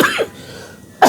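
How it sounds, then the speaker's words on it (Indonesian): A short cough bursts out at the very start and another at the end, close and fairly loud, with a quiet stretch between them. "sorry batuk dek"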